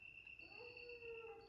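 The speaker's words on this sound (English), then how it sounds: "Man, that dog is like in some pain." A dog in Resident Evil whimpers and whines in pain, a thin drawn-out cry rising and falling at a distance beneath a steady high tone.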